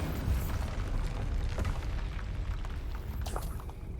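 A Bombarda spell explosion in the game Hogwarts Legacy, a dense rumbling blast with a crackling burst that fills the whole stretch and fades slightly at the end, heard alone without speech.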